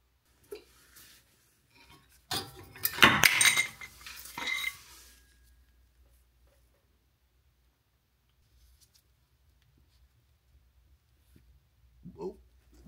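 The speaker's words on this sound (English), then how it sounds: "the pads themselves should just come right out" Metal brake pads are pulled out of a front brake caliper, a short cluster of close metallic clinks and scrapes, then near silence with a faint clink at the end.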